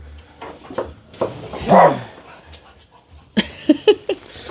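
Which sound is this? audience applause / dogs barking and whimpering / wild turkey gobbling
dogs barking and whimpering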